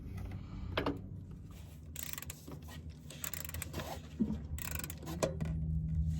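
Wrench working a stuck drain bolt on a Precision Temp TwinTemp Junior water heater, quiet close ratcheting clicks and metallic scraping in short bursts over a faint steady background hum.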